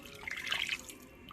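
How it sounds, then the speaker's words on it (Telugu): Water splashes and swirls briefly inside a mixer jar, a short rinsing burst that fades quickly. "మనం మిక్సీ జార్ కడిగేసి ఆ వాటర్ వేసేసుకుందాం"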